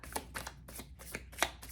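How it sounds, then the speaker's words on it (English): A deck of tarot cards is shuffled by hand in a quiet room, about six soft riffling bursts in a steady rhythm, close and gentle. "I'm just going to give these a good shuffle."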